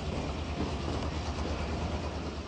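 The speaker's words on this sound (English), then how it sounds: "climbed aboard a train run by the McCloud River Railway Company and headed out through some beautiful country" A McCloud River Railway train runs with a dense, steady rumble and rattle of cars rolling along the track. The sound is loud and continuous, with a low drone underneath.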